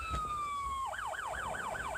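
An ambulance siren at Shahjahanpur Medical College holds a long falling wail, then switches to a rapid repeating yelp. It is loud and fairly close, with no talking.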